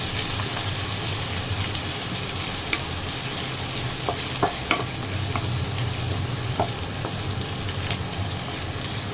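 Garlic, onion and ginger sauté in a hot pan with a steady, close sizzle, while a utensil stirs them with a few sharp scrapes and clicks against the pan.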